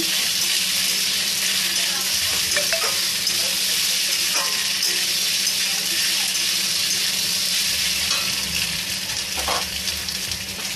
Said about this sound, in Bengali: এবার আমি লম্বা লম্বা করে কেটে রাখা টমেটোগুলো দিয়ে দিচ্ছি